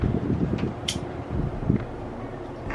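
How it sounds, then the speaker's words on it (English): Outdoor wind gusting against a microphone, a low rumbling buffet that swells and eases steadily, with a brief rustle or two on top. "I'm out here with the wind, so bear with me."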